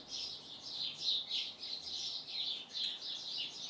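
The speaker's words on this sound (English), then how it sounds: "Like these birds outside. Can you hear them?" Birds chirp continuously at a moderate distance, a steady chorus of high tweets and calls with no voices.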